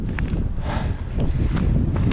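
Steady cold wind at the Col de Larche buffets the microphone with a constant low rumble and rushing hiss, loud and close throughout.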